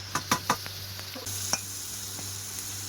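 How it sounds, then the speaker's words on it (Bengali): Fried prawns go into a frying pan of hot oil with chopped onion, crushed garlic and green chillies, giving a few quick clatters followed by a steady close sizzle. "ভেজে রাখা চিংড়ি মাছগুলো ছিল সেগুলো দিয়ে দেব।"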